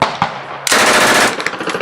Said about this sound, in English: do like a 3 or 4 round burst. Brrr. Hold the trigger down intermittently.